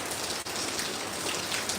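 Heavy monsoon rain pours down in a dense, unbroken roar, loud and close, with no voices over it.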